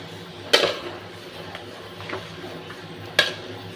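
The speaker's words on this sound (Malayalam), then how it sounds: "ഇളക്കി മറക്കുന്നത് ഇപ്പോൾ" Stirring pathila leaf curry in a pot for a Kerala Karkkidakam dish, with two sharp clinks of a utensil against the pot and faint scraping between them, quiet and close with no talk.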